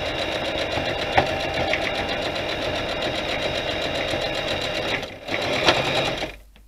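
A sewing machine stitches a pressed open seam under the presser foot, running in a fast, steady whir with a brief dip near the end before it stops.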